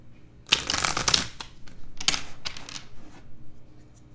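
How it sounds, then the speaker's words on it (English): Tarot cards being shuffled by hand: a dense riffling burst followed by several shorter flicks and shuffles, close and fairly loud, with no talking. "I'm going to shuffle the cards."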